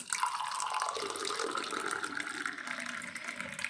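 Freshly strained ABC juice of apple, beetroot and carrot pouring into a glass, a steady close liquid gush that runs unbroken throughout with no talk.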